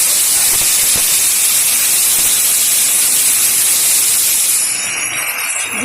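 Chopped taro pieces hit hot oil in a pan and sizzle loudly with a dense, close, steady hiss, dropping off a little in the final second.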